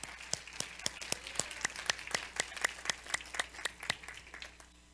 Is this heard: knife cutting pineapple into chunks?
no